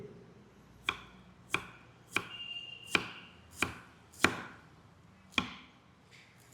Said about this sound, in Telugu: ఉల్లిగడ్డ కూడా సన్నగా కట్ చేసుకోండి.